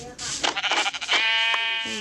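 Two sheep bleating in the game Minecraft, a wavering, nasal bleat up close that carries on for about a second over someone talking.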